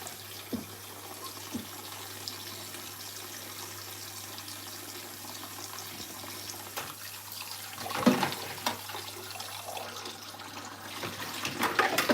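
Kitchen tap left running in a home kitchen during a pastry-making session, a steady faint hiss of flowing water with clatter and splashes around the middle and toward the end.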